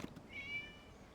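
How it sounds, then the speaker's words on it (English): A cat in the video game Genshin Impact gives a single faint, thin meow over a quiet background hum, short and alone with no talking. "It was just a cat."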